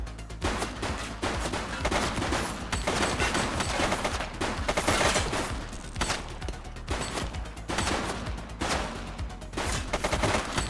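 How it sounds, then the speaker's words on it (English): Rapid, dense gunfire from a firefight in the police game The Precinct: overlapping shots and bursts crack continuously and loudly for the whole stretch, with no talking. "Shots fired!"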